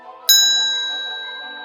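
A single bright bell ding strikes clearly out of near silence and rings on with a long, slowly fading tone.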